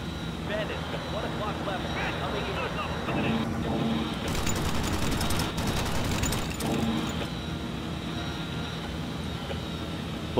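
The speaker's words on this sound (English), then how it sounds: "turret's blazing away here." Gun turret on a B-17 Flying Fortress bomber in a flight combat game fires bursts of rattling fire over a steady engine drone, while voices talk over the action.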